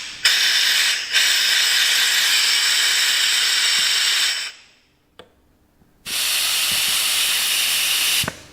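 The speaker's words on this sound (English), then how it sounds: "you can feel the air coming out" Compressed air hissing loudly out of a multipower assembly during an air test, two close, steady bursts separated by a short silence with a faint click.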